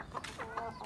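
Chickens cluck in a few short, fairly close bursts while being picked up and moved from a dirty cage, with some rustling in between.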